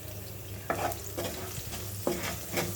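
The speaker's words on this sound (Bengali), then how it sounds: "এটিকে বেশ নেড়ে চেড়ে ভালো করে আগে একটু ভেজে নেব" Mango and onion curry with turmeric and cumin stir-fried in a pan, with soft sizzling under a few distinct scraping strokes of a spatula at a slow, uneven rhythm.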